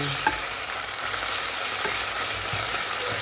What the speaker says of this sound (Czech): Když tam zarestujete ten protlak, tak ty pachutě tak trošku zmizej